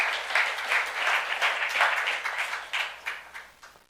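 A church youth congregation claps in a brisk, even burst of applause, fairly close and lively, thinning into a few scattered claps as it fades toward the end.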